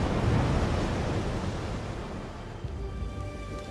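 Ocean waves roll and wash in a broad, steady surf roar that swells at first and then settles slightly softer, heard alone without talk.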